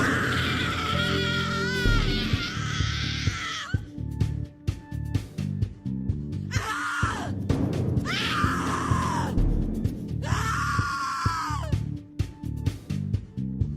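A character screams in The Cat Lady video game, a drawn-out anguished cry in bursts separated by pauses, set over a dark, droning music bed with steady low pulses.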